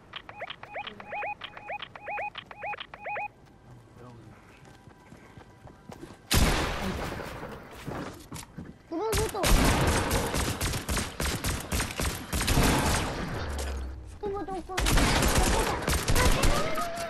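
Shotguns and other guns fire during a Fortnite squad match. A run of regular electronic beeps comes first, then dense, loud volleys of rapid shots arrive in bursts, with faint voices now and then.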